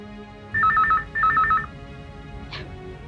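A telephone rings with two close, electronic trilling bursts, followed by a faint short blip, in an otherwise quiet room.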